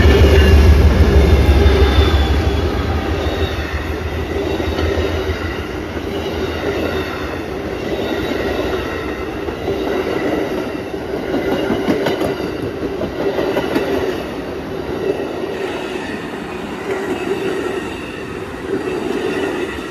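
A long train rolls through Lakeland station in Florida with a heavy, close rumble, rhythmic wheel clatter and a thin high squeal from the wheels. It stays loud and steady, with no voices.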